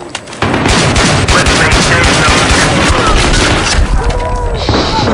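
Rapid USAS 12 automatic shotgun blasts with flechette rounds in Battlefield 3, a loud, dense barrage of overlapping shots filling the whole stretch, with only a short lull at the very start.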